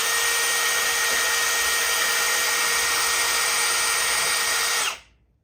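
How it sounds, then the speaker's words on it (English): A power drill runs steadily at high speed while a step bit reams out holes, a loud continuous whine that cuts off abruptly near the end, with no talk over it. "Look how fast that ate through that. I didn't lock my drill."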